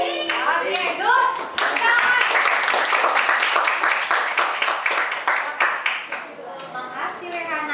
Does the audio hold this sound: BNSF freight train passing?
no